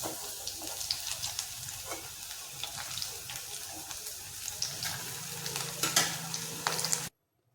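Ivy gourd (kovakkai) pieces fry in hot oil with a steady, close sizzle, broken by occasional utensil scrapes and clinks as the pieces are stirred, ending in abrupt silence.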